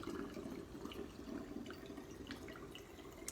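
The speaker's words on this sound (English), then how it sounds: "we're just gonna fill that tiki oil" Tiki torch oil poured through a funnel into a torch, a steady soft liquid trickle with faint splashy detail, continuous and close but quiet, with no talking.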